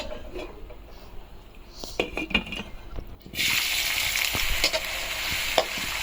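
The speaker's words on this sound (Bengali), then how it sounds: "এখন আমি একটু পেঁয়াজ বেরেস্তা করে নিচ্ছি।" Sliced onions sizzle in hot oil as they are fried crisp for birista, with a quiet stretch of clinks and scraping stirs before a loud, steady hiss takes over and carries on to the end.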